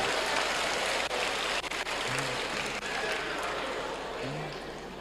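A church audience at a Catholic marriage talk applauds: steady, dense clapping that fills the whole stretch, with a few faint voices briefly showing through.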